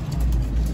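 Pigeons in a loft coo softly over a low, steady engine rumble nearby, with a thin high whine running throughout.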